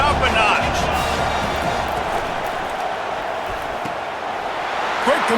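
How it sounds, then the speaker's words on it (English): A football stadium crowd during a college game between NC State and Lime Tech makes a broad, sustained roar of cheering under a commentator's voice, swelling slightly near the end. "this crowd is turning it up a notch."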